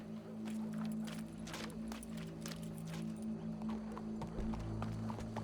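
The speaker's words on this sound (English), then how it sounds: "Go brush that horse" Horse hooves clip-clopping in the Red Dead Redemption II video game, a quiet irregular patter of hoofbeats over a low steady background drone.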